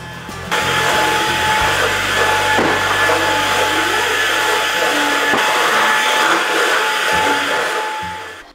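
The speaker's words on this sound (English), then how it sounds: "I'm going to go over the hard floors in the kitchen with a vacuum cleaner" A vacuum cleaner drones loudly and steadily across a hard kitchen floor, its motor whine holding for several seconds before winding down.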